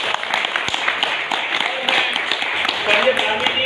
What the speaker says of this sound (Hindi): इनके लिए मैं जोरदार ताली की गुजारिश करता हूँ।